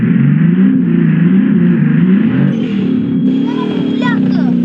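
A BMW M5 Competition engine in BeamNG.drive drones loudly and steadily, its low rumble rising and falling with revs throughout, with someone talking over it.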